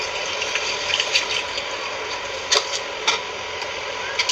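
Water pours steadily into a container with a bright, hissing splash, with a few small knocks and clicks over the flow.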